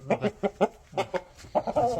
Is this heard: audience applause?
no